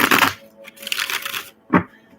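Tarot cards are shuffled in a few quick bursts of papery riffling and slapping, close and fairly loud, with short pauses between.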